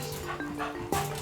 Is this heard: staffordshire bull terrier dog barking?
yes